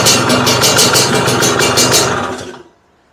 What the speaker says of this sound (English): Try and start it up without choke, because I think your pilot is big enough.